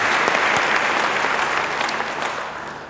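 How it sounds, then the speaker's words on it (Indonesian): A church congregation applauds during an Indonesian sermon, dense steady clapping from a crowd that carries for a few seconds and tapers slightly toward the end. "Beri tepuk tangan yang baik bagi dia"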